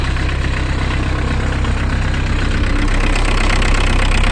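A Volkswagen Golf 1.6 engine fitted in a LuAZ off-roader idles close by with a steady, dense rumble and faint knocking texture, unchanging throughout with no talking.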